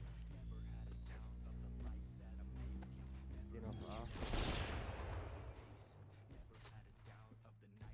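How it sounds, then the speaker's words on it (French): Bursts of gunfire from the video game Rogue Company crackle through a busy mix of game sound, with talk running underneath. "il y en a qui tire sur toi"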